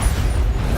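Bombarda blasting spell going off in Hogwarts Legacy: a short, dense, bass-heavy burst of explosive rumble that stays loud and rough for under a second.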